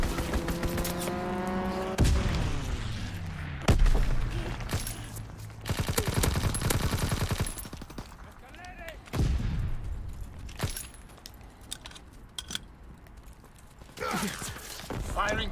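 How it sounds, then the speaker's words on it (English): Video game fighter plane strafing a target with machine guns, heard as repeated loud bursts of gunfire and impacts amid engine and battle noise, with voices talking over parts of it. "Fighter pilot inbound, strafing the target."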